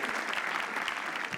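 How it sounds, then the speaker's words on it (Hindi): An audience at a live comedy show claps, a dense, steady burst of applause filling the room throughout. "एक बार can we clap for Brocode?"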